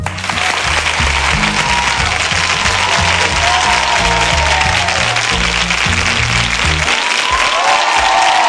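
Loud, sustained applause from a concert audience greeting a singer, a dense continuous clapping roar with some crowd noise, with music faintly underneath.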